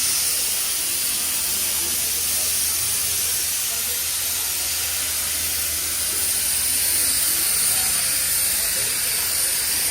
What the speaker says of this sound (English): we are next to the train. They're letting out steam, literally.